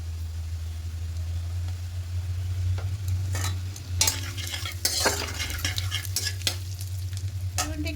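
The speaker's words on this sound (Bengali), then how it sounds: "এবার তেলের মধ্যে গোটা জিরে ফোড়নে দেব আর সামান্য একটু হিং দেবো" Whole cumin seeds and a pinch of asafoetida sizzle in hot oil, a close steady frying hiss broken by sharp crackles and spatters, over a low constant hum.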